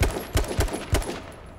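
Video game gunfire sounds in a short burst of several rapid shots with a sharp attack and a trailing echo, fairly loud and alone.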